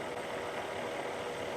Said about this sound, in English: I'm just letting the cutting head just slowly find its way.